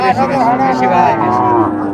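Loud, close lowing from a cow at the Chandaikona cattle market in Sirajganj, a long drawn-out moo that fills the clip.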